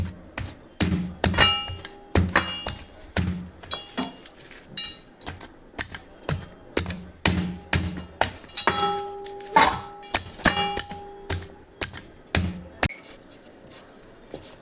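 Wheat flour dough is pounded in a steady rhythm of sharp, clinking knocks, about one to two per second, close and fairly loud, with a short pause midway.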